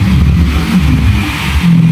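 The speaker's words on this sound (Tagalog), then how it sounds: "Haba ng jeep, oh." A jeep's engine roars loud and close as the vehicle accelerates past a petrol station, a steady low rumble running throughout with no talk.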